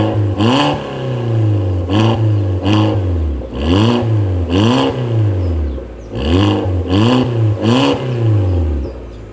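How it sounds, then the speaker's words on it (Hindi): A modified Hyundai Grand i10 with a loud aftermarket exhaust and custom resonator revs hard about eight times in a row, each rev rising and dropping back to a rumbling idle, loud and close. "एक बार चलो मैं ना आपको एग्जॉस्ट जैसे जो भाई ने लगवा रखा है ना, उसकी एक बार आवाज सुना देता हूँ"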